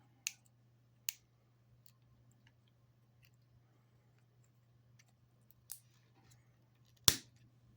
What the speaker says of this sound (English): I can get in here and cut this support right here.